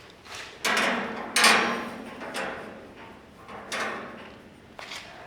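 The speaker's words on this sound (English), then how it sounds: "whack this with a hammer, and that should flatten that out pretty good" Metal screws on the floor are struck flat with a hammer, several dull, spaced knocks at moderate loudness, each with a brief ringing tail and no talking.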